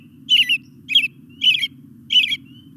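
A bird gives four crisp chip notes, evenly spaced about half a second apart, clear and close over a low, steady background hum.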